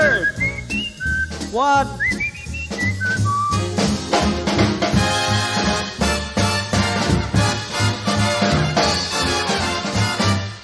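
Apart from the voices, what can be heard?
person whistling like a bird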